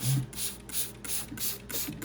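A spray bottle mists real moss on a ball python's hide in several quick, hissing bursts at a steady rhythm, close and fairly quiet, with no talk over it.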